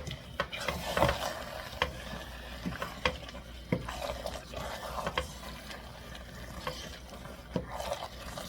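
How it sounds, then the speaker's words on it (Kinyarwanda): Tomato sauce fries in a pot and is stirred, with a soft crackling sizzle broken by repeated scraping and tapping strokes of a spoon at an irregular rhythm. "Tugiye gukaranga sauce tomate nk'iminota 5 kugira ngo umuhumuro ushiremo."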